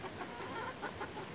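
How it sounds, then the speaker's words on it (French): Soft, scattered clucking from a few chickens, faint and a little distant, with no talking. "Maman, elle essaye d'attraper des poules."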